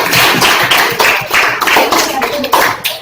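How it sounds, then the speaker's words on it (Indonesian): Classroom of eighth-grade students clapping for a presenting group, a loud, busy burst of many hands with uneven rhythmic pulses, close and without talk. "berikan tepuk tangan dulu untuk kelompok 1"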